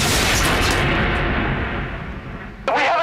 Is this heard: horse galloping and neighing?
no